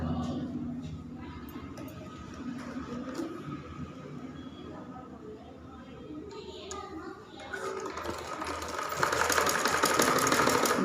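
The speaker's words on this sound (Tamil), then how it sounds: "நடு சென்டரில் இப்போ தையல் போட போகிறோம்" A sewing machine stitches golden lace onto saree cloth for a round-neck blouse, its rapid mechanical whirring running steadily and growing louder and busier toward the end, with faint background noise.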